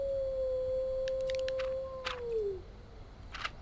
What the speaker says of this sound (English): Okay, that wolf sounds very, very close.